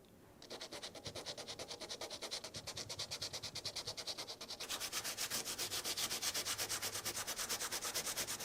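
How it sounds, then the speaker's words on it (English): Steady back-and-forth sanding on a power-carved wooden letter to flatten out a finish run, a rapid rhythmic rasping that continues alone and grows louder and denser partway through. "The trick is to sand all of the letter to flatten everything out"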